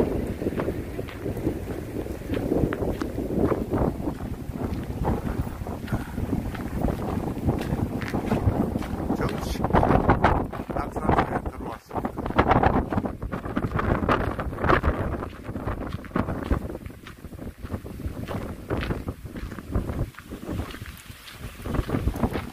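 Strong wind at a mountain temple, Naksansa near Uisangdae on the coast, roars in steady gusts and buffets the microphone throughout, loud and close, with no voices.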